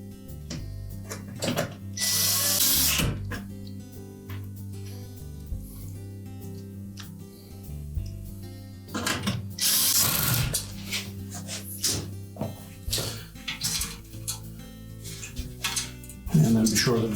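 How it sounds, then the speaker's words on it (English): A power screwdriver drives retaining screws into a Samsung range's mounting bracket in two loud, whining bursts separated by quieter handling clatter and small mechanical clicks, close by. "Then we'll secure that mounting bracket with the retaining screws."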